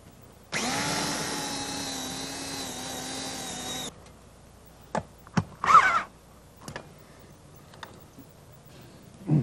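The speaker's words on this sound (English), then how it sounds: "I'm going to drill the holes." A power drill whines steadily for about three seconds while boring holes into house siding for a satellite dish mount, followed by scattered clicks and knocks.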